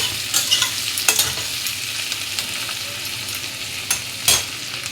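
Papaya pieces and fish frying in a pan, stirred with a few sharp scraping clatters over a continuous bright sizzle, close up with no talking.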